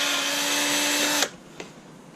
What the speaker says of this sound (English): take this 1/8 drill bit